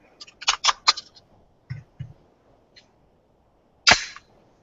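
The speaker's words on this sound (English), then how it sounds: "Let me drop the mag real quick." A magazine dropped from a Glock 20 10 mm pistol gives a few sharp metallic clicks and clacks close by, then a single louder snap after a short pause.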